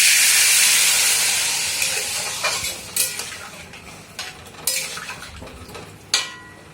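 Water poured into a pot of chicken biryani with potatoes, a broad hiss fading slowly over several seconds, punctuated by a few sharp clinks of utensils against the pot.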